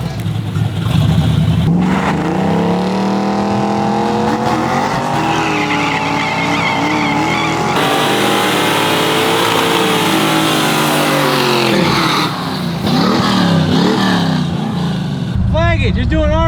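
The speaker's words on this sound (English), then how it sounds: "Let's see if this guy in the Mustang wants to race real quick." Cars in a street race against a Mustang rev and accelerate hard, engines rising in pitch through loud sustained runs with tire squeal near the end, close and dominant under occasional talk.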